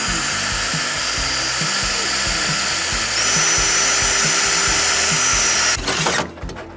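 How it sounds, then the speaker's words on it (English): A power drill bores overhead into metal during a Mulch Mate remote control installation, a loud steady high whine held for several seconds with slight load changes, then cutting off abruptly near the end. "you're drilling above your head"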